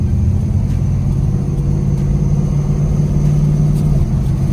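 A tuned car with a BTR stage 4 cam, 3200 stock converter and mail-order tune cruises normally, its engine giving a steady, loud, droning rumble with no clear revving.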